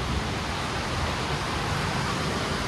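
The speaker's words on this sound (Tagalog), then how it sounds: "umuulan ng todo kasi nabukad kami ng bagyo dito sa aming kainan" Heavy rain pours down during a storm at a roadside eatery in Pangasinan, a dense, steady wash of noise that stays loud and even throughout with no break.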